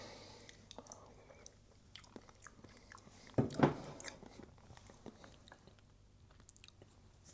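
Someone bites and chews a salty caramel flavored supplement snack, a crunchy burst near the middle that stands out close and loud, then softer mouth sounds over a quiet room.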